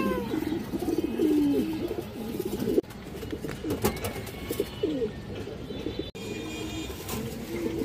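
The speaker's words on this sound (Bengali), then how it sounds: "একটা সবজি মাদি কবুতর" A female Sobji breed pigeon coos repeatedly in soft, throaty rolling calls, close by, with a second bird also cooing at times.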